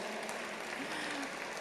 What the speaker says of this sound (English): I think we can have a round of applause, ladies, for that.